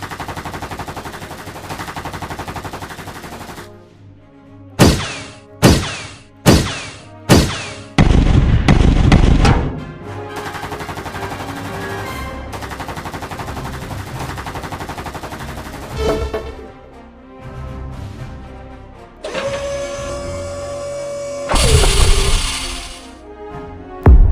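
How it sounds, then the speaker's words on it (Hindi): Gunfire erupts in an animated fight between robots and an army: a quick string of sharp, loud shots, then a rattling burst, followed by other dramatic effects, with no talk. "गोली की आवाज सुनते ही जयकाल आर्मी अलर्ट हो जाती है।"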